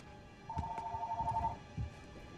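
Telephone ringing in the video game Uncharted 3: Drake's Deception, a single steady electronic ring tone lasting about a second over faint background sounds, no talking.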